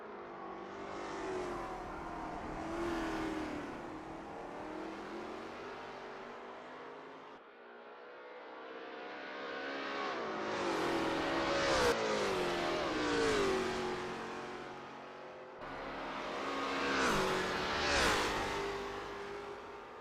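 Lola T70 MkII Spyder race cars in a racing video game at Road America, engines revving and shifting through gears in repeated loud accelerating surges, with cars passing close by.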